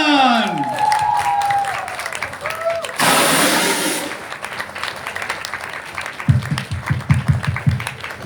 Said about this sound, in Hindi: A big round of applause for Humaira Kamran, number 1 leader of Oriflame Pakistan.